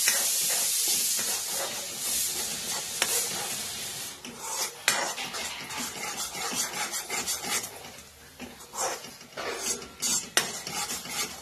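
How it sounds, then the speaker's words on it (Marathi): Chili masala is stirred in a pan until the oil separates, giving a hissing sizzle and repeated scraping and clinking of a spoon against the pan, with uneven strokes. "आता चांगलं याला तेल सुटेपर्यंत आपण हे करायचं आहे, हलवायचं थोडं म्हणजे खाली करपणार नाहीये."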